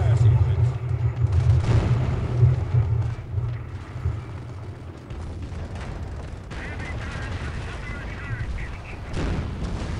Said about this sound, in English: Rocket batteries have a target. Initiating fire sequence.